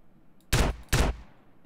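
Two loud, close shotgun blasts from GTA San Andreas fire about half a second apart, each a sharp broadband crack with a short decay, framed by near-silence.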